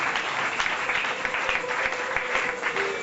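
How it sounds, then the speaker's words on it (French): A church congregation at a French-language worship service bursts into sustained applause, a dense steady clapping from many hands filling the room without a break. "Acclamons pour la gloire de notre Seigneur Jésus-Christ."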